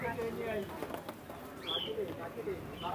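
Pigeons at a large open-air pigeon market in Khalishpur, Khulna, coo and call in short overlapping bursts, close by, mixed with people talking.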